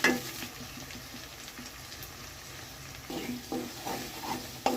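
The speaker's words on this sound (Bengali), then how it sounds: "এবার এর মধ্যে একটু চিকেন মশলা দিয়ে তারপর কষাবো" Garlic, ginger and chili paste with chicken masala sautéing in a pan: a steady soft sizzle with occasional scraping stirs near the end, and no voices.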